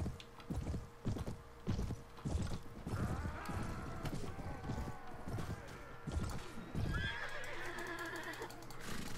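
Cavalry horses in the medieval battle game AD1257 neigh and whinny over rapid hoofbeats and clattering battle noise, with someone talking now and then over the fairly loud game sound.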